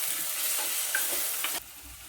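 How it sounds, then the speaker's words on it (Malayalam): Tomato, crushed ginger and garlic with onion masala being stirred in a frying pan for a tilapia fish curry, a brief close scrape and soft sizzle that cuts off abruptly near the end. "ഒന്ന് ഇളക്കി കൊടുക്കാം."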